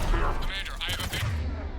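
Cannon fire in Mass Effect 3 as a continuous, dense barrage, loud and close, with heavy low booms running beneath a faint voice throughout.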